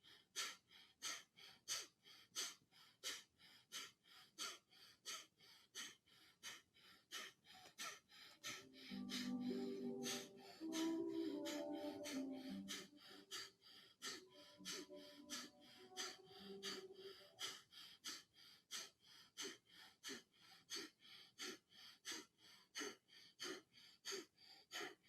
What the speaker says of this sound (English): So I get my shoulder shrugs going, then I add my breath of fire.